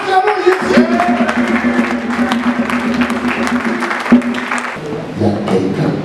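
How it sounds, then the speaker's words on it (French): A church congregation bursts into applause during a Sunday service, a dense wash of clapping from a large crowd that holds steady for several seconds with voices mixed in. "Acclamons Jésus"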